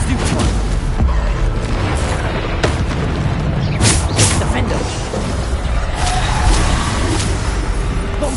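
Bombarda spell blasts in Hogwarts Legacy, several booming explosions bursting over a constant roar of game combat noise, loud and close, with a voice heard in the mix.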